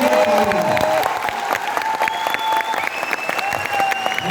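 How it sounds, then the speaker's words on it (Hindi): An audience in a hall applauds in a loud, sustained burst of dense clapping, close and continuous, with faint crowd noise and a tone ringing underneath. "इतना जबरदस्त ताली बजाए कि ये हॉल हिल जाए"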